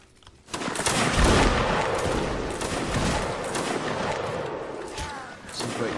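Massed musket volleys crackle from regiments exchanging fire in a multiplayer Napoleonic-era line battle game, a dense, continuous fusillade of overlapping shots with echoing booms, loud and sustained throughout, with faint voices in the background.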